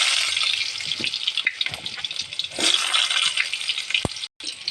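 Onions sizzling and frying in hot oil with mustard seeds for a brinjal thokku, a continuous close hiss with occasional stirring scrapes, ending in a sharp clink and a brief cutoff.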